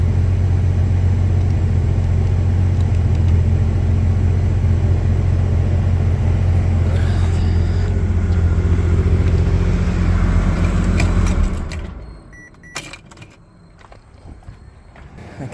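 A Porsche 993 engine idling after starting with the air conditioning on, a steady low rumble close by that runs for about eleven seconds and then cuts off, leaving faint clicks and handling noises.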